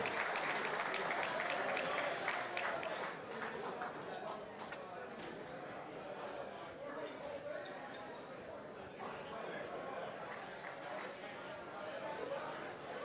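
Audience at a boxing event applauding honored guests, with dense, steady clapping and crowd chatter that continues throughout at moderate loudness, heard from within the hall.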